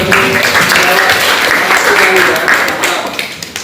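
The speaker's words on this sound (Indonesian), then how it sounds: "berikan tepuk tangan untuk Ali ya" Classroom applause for a student during a teaching practice lesson, a dense burst of clapping with voices talking over it, fading slightly toward the end.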